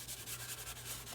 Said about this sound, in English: I'm going to use my embossing buddy. Just kind of go over a little bit.